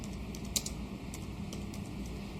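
Close-up typing on a computer keyboard during an Excel 2016 session: soft, quiet, irregular key clicks with one sharper tap early on, over a faint steady background hum.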